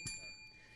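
A small bell brought up from a basement gives one sharp ring whose bright metallic tone hangs and fades over a short moment, close and fairly faint.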